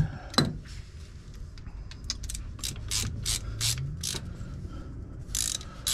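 A ratchet wrench clicks in short repeated bursts while snugging a bolt on the engine of a Bayliner 3888 boat, with a metallic creak and faint mechanical rattles between strokes.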